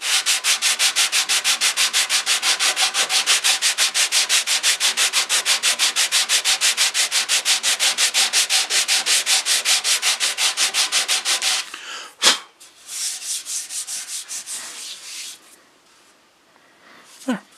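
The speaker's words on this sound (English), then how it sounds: "I'll just hit it with a little bit of this sandpaper and a flat block." Sandpaper on a flat block rubs across a wooden chair part in quick, even back-and-forth strokes, close and steady for about eleven seconds, then a knock and a few looser scrapes before it trails off.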